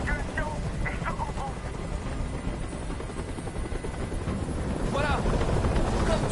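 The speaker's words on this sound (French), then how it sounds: "Je peux plus supporter ce bruit. Fais dégager cet hélicoptère" A loud helicopter clatters and roars overhead in a tense hostage standoff, a constant churning rotor noise with voices shouting over it at moments.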